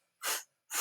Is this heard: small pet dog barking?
no